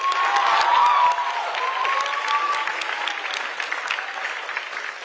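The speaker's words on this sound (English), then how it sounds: "Can we get a round of applause?" An audience at a school awards night applauds steadily for several seconds, a dense patter of many hands with a few cheers mixed in, easing slightly as it goes.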